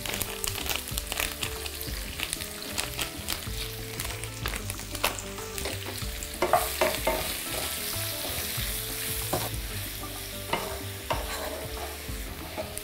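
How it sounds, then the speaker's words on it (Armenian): Chopped onion frying in a pan with turmeric, a steady close sizzle broken by frequent spatula scrapes and clacks against the pan, no talking. "Սոխը թող տապակվի"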